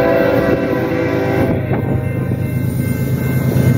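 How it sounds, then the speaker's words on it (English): A BNSF intermodal freight train rumbles past at close range, a steady heavy roar of wheels and cars, with a horn-like tone held near the start. "looks like we got an incoming BNSF intermodal train coming in."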